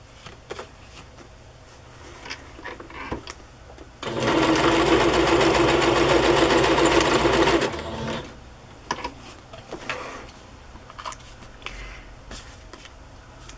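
Close sewing machine stitching fabric onto paper for a Raggedy Ann doll, a steady rapid run of about four seconds set between quiet stretches with small handling noises.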